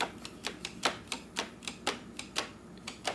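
Crisp plastic clicks come from the pressed bumper of an iRobot Roomba 700 series robot vacuum, about a dozen close taps at a slightly uneven pace.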